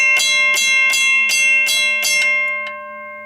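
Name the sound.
WCH 0333 mechanical railroad crossing bell ringing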